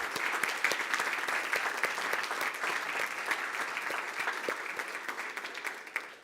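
An audience at a school board meeting applauds with steady, dense clapping that fills the room, moderately loud and continuous, with no clear speech over it.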